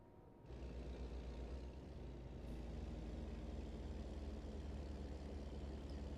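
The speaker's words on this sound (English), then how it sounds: "I wonder how the Jake brake sounds in this game." Kenworth W900 truck in American Truck Simulator with its Jake brake engaged, a loud steady low-pitched engine rumble that starts abruptly after a brief moment and holds for several seconds, alone with no voices.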